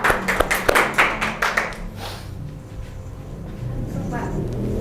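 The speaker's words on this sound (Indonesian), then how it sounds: "tepuk tangan dulu buat Dek Naswa dong." A classroom claps for a student called up to the front, with a short burst of distinct, fairly close hand claps that fades after about two seconds into room noise and low voices.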